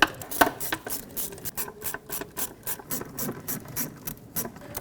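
A ratchet wrench snugs down the thermostat housing bolts on a 1998-2011 Ford Ranger with the 4.0L V6, giving close, rapid clicking bursts in an irregular rhythm with no talk.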